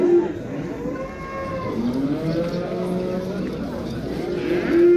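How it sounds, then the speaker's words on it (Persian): A cow moos repeatedly at a busy livestock market, long low calls rising and falling over crowd murmur and background noise, with people talking nearby. "گاوی ذاتی خوشرو."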